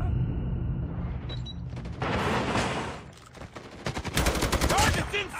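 Rapid bursts of automatic gunfire from the mobile game Call of Duty Mobile, loud and close, in several volleys with brief lulls between them.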